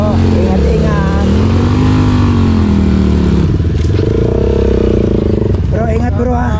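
A motorcycle engine revs and rumbles close by on a street, its pitch rising and falling steadily under people talking.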